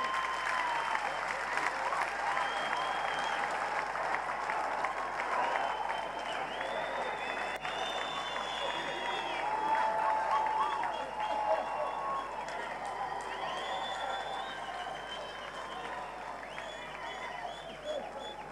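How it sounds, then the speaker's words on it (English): A large church congregation at TB Joshua's church claps their hands in long, continuous applause, with crowd murmur and scattered voices mixed in throughout at a moderate distance. "please clap your hands to me"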